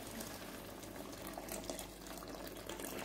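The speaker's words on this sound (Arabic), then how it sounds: "هنزودها بقى مية مغلية، أهم حاجة تكون مية مغلية" Boiling water is poured into a pot of meat simmered in tomato sauce for an okra stew, giving a steady, rushing bubbling hiss that stays fairly constant throughout with no voices.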